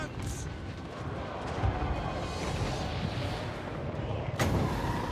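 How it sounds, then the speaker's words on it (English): A cannon fires in a strategy video game, a deep booming blast with a sharp crack near the end, set against a dense, continuous rumble of battle noise. "Our cannon has monstrous impact, so we can use that on this giant to slow his movement down."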